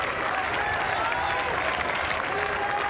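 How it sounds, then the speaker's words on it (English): A golf gallery at The Open's final round at Royal Liverpool, Hoylake, in 2006 applauds Tiger Woods as he walks to the first tee, with dense, sustained clapping from a big crowd, loud and unbroken throughout. "Just listen to the applause as Tiger makes his way to the first tee."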